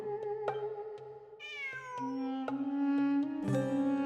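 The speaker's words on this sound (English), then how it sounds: "It really is a cat." A cat meows repeatedly in a video game event set in Sumeru: several clear, rising and falling mews over a soft rhythmic musical backing, with no talking.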